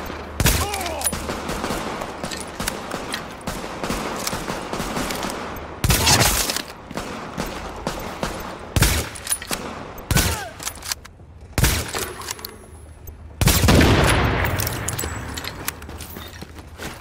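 Bursts of gunfire in The Division video game while defending a supply drop, heavy layered shooting with sharp loud volleys breaking through a constant busy background of game noise.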